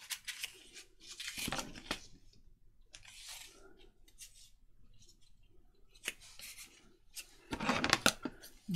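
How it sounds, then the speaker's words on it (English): Scissors cutting paper to make junk journal gussets, several separate snipping and rustling bursts up close, with quiet stretches between them. "1/2 to 3/4 of an inch there and cut that off."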